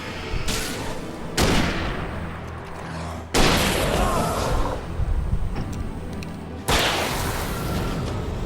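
Rifle gunfire in the video game Alan Wake: four or five heavy, booming shots spaced a second or two apart, each with a long rumbling tail, loud and close with no pauses of silence between them.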